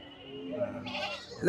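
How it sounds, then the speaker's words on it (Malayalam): A single wavering bleat rises over a short stretch of quieter voices, ending in a brief sharper cry. "അതാണ് അതാണ് ആട് ആട് കറുത്ത ആട്"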